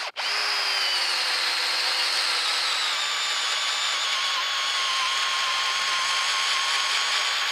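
A power drill with a large bit bores into a wooden log, a loud continuous whine that starts abruptly and holds steady, close up, with no talk over it.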